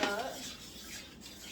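Tomato sauce seasoned with salt, black pepper, oregano, red pepper flakes and Italian seasoning is stirred in a pot for lasagna, with a faint spoon scrape and clink at the start, then quieter and fading.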